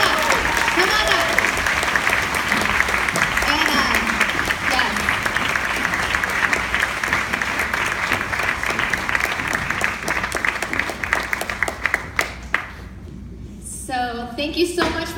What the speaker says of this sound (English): Y'all can clap for us. Yeah, clap for everybody.